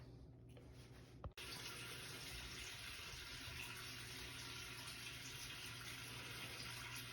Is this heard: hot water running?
yes